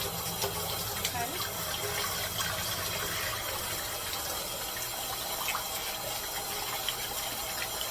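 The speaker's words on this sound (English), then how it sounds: "I'm gonna rinse off this rice about 5 times" Tap water runs steadily from a kitchen faucet as two cups of rice are rinsed in a bowl, a continuous close splashing wash with low rumble underneath.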